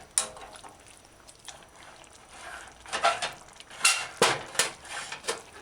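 Spoon scraping and clinking against a pot while ketchup is stirred into a mushroom and chickpea stew, a run of soft knocks that grow louder and more rhythmic toward the end.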